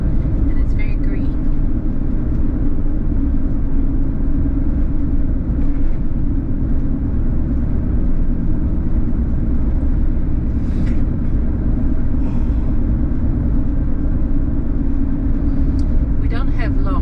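A car driving along a road through green, hilly countryside near Paraguay's capital, giving a constant loud low rumble of engine and road noise inside the vehicle, with a voice talking throughout.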